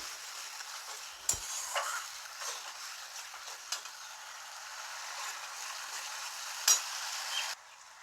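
Masala with sugar and salt fries and gets stirred in a pan for a paneer and potato curry, a quiet sizzle broken by scraping strokes and a couple of sharp clicks, ending abruptly.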